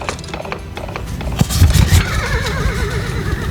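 Large dray horses pulling a heavy wagon whinny and neigh loudly in a rising, wavering cry, with clattering hooves and rough background noise beneath.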